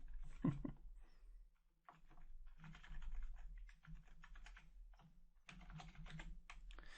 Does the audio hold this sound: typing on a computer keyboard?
yes